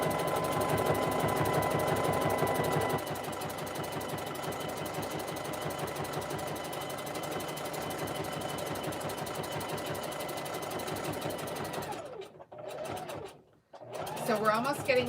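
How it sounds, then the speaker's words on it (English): Sewing machine stitching fabric strips for a jelly roll rug, a steady rapid chatter of the needle that runs loud and continuous for about twelve seconds, then breaks off into short pauses and restarts near the end. "and then I start to sew again."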